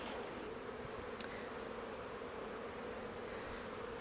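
Honey bees buzz steadily throughout at an open hive, a dense continuous drone of many insects close by, with no talking.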